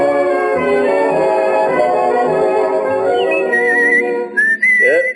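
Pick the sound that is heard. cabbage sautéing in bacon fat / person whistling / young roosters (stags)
person whistling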